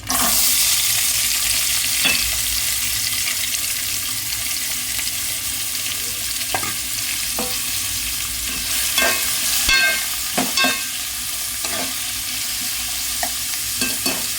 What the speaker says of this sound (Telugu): ఇప్పుడు కట్ చేసి పెట్టుకున్న ఆనియన్స్, పచ్చిమిర్చి వేస్తున్నాను.